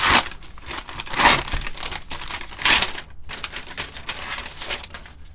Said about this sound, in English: See if I can get them out of the bag here.